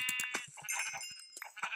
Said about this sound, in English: Hey, sheep, get over here.